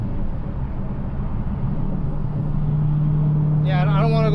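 Car rolling slowly on freshly installed Firehawk Indy 500 tires, a steady low engine drone with a constant hum and road noise, close to the microphone, a person starts talking near the end.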